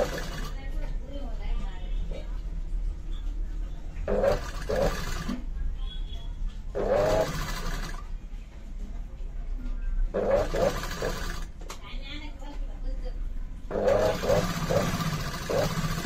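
A sewing machine stitches a two-piece katori blouse seam with a three-thread margin, running in repeated short bursts separated by pauses while someone talks.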